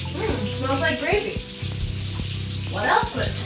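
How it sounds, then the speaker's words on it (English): Gravy sizzles and crackles steadily in a hot pan, a constant hiss alongside occasional stirring and scraping, with someone talking over it. "Sizzle, sizzle."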